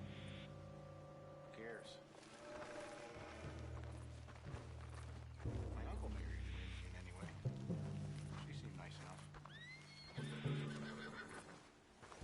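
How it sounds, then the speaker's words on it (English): A spooked horse whinnies in Red Dead Redemption 2, its neigh rising over hoof clip-clop and a steady game soundscape, with a voice speaking in the scene. "What's got this horse spooked, huh?"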